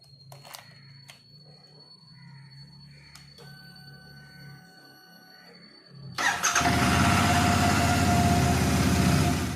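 A motorcycle engine is started after its battery is recharged: a quiet stretch of faint clicks and beeps gives way to the engine catching and running loudly and steadily at close range.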